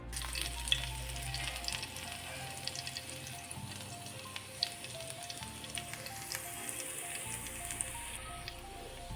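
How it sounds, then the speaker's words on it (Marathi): Crushed garlic sizzles and crackles steadily in hot oil in a pan on a griddle, a close, continuous frying hiss with scattered pops and no talking. "त्यामध्ये ठेचलेला लसूण घालून घेऊया."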